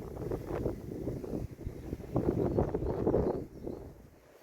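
Strong wind buffets the microphone in gusty, rumbling bursts that rise and fall unevenly, on a motorcycle ride.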